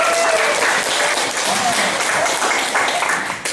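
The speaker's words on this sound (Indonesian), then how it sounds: "Tepuk tangan buat kita." Crowd applause at a live stage event in Soppeng, broad sustained clapping from many people with a few faint voices and whistles mixed in.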